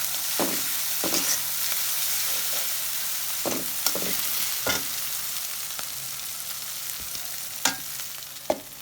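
Banana flower fries in a pan with turmeric, coriander and green chili, a constant sizzle punctuated by sharp spatula scrapes and taps at irregular intervals, close and fairly loud.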